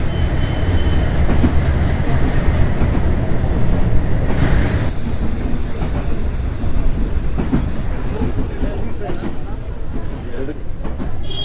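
A train on the Bengaluru to Delhi route rumbles loudly close by, a steady heavy rolling roar of wheels and carriages with faint rattles and a brief metallic squeal, continuous for the whole stretch.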